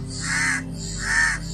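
Two loud, harsh crow caws as a sound effect in a Hindi folk tale, evenly spaced and close, each drawn out over a steady background drone with no talking.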